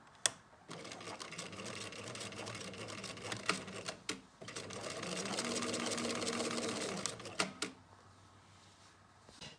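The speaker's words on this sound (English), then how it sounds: "So I've sewn that all the way along" A sewing machine runs at close range, stitching bias binding along the edge of a fabric dental gown. It hums in long steady runs, with short pauses and sharp clicks between them, and no one speaks.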